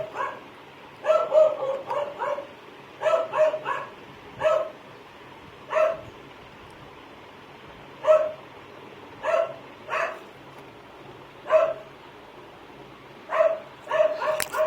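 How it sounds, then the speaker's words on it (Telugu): A dog barks repeatedly at a moderate distance, single barks and short clusters spaced a second or two apart over a quiet background. "ఈ మధ్యలో ఈ కుక్క ఏంటండి ఇలా మరుగుతుంది?"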